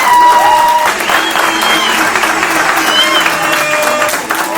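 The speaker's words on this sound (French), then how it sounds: "Donc on va applaudir à nouveau pour le discours." Sustained applause from an audience following a speech at a celebration, steady dense clapping filling the whole stretch with a lively crowd murmur mixed in.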